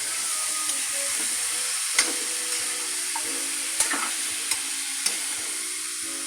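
Stingray stewed in coconut milk being stirred in a pan, a steady low simmering hiss broken by a few sharp clinks and scrapes of the utensil, close by with no talk.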